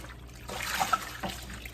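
Water runs and trickles from a tap while items are rinsed and scrubbed, making a soft, uneven splashing with a couple of brief louder gushes and no voices.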